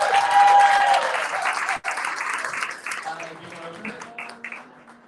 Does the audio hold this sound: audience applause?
yes